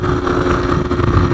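A Suzuki PV moped engine revs hard and steadily with a buzzing, high-pitched two-stroke whine, close and loud throughout, with no talking.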